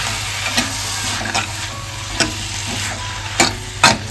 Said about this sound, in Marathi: आपण आता मसुराची डाळ घालून घेते व्यवस्थित तेल मिक्स केलं